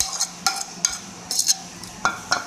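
A spoon scrapes and clinks against a bowl while chicken mayo and vegetable sandwich filling is mixed, giving sharp, irregular taps over a quiet background.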